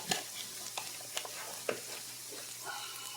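Flour and onions are stirred in a frying pan, with soft scraping strokes and a few sharp clinks of the utensil over a faint background sizzle, close and quiet.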